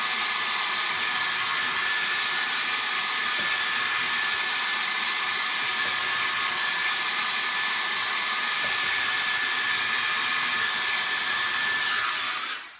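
A hair dryer runs steadily and loudly, drying a chalk transfer design, with a constant airy roar that cuts off abruptly at the very end.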